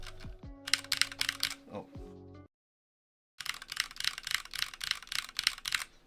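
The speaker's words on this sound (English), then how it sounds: "This is a gaming keyboard from Ducky, or I think this is the better way to say it. See, Ducky Mecha SF. This is made out of metal." Typing on a Ducky Mecha SF metal gaming keyboard: rapid clusters of clacky keystrokes close up, broken by a short silence, with a brief spoken exclamation and some other tones early on.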